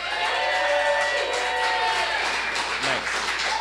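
A live audience claps and cheers for a few seconds, a steady wash of applause with scattered whoops at moderate distance.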